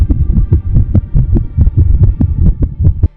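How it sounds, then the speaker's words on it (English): Fetal heartbeat effect in ultrasound style: a fast, even run of about fourteen deep, muffled pulses over three seconds, loud and close with a soft hum beneath, no voices. "In week 6, the heartbeat flutters into existence,"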